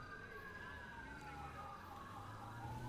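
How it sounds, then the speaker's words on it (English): Police sirens in the GTA 5 video game wail faintly in the distance, a sweeping tone gliding down slowly over a low background hum. "I hear more sirens, possibly?"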